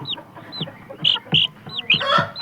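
Laying hens cluck repeatedly at close range while their chicks peep in high, frequent chirps, a busy run of calls with no talking.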